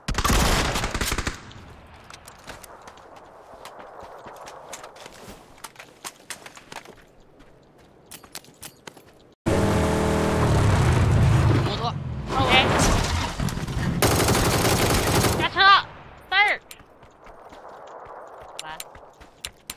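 Gunfire in a shooter video game, with several bursts of shots and loud clustered impacts in the middle, and quieter stretches of game noise before and after.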